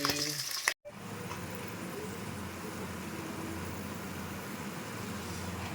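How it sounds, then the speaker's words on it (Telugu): Pieces of pond fish fry in hot oil, giving a steady, dense sizzle that carries on evenly after a brief cut near the start, with some low background rumble underneath. "ఇట్లా చేపలు ప్రతి ముక్కని ఇట్లా ద్వారగా ఎర్రగా వేయించుకుంటే పచ్చి అనేది లేకుండా కరకరలాడిద్ది ముక్క"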